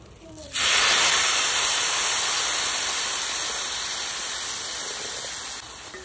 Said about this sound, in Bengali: চালটা তো ভালো করে ভাজা হয়ে গেছে, এবার আমরা জল দিয়ে দেবো।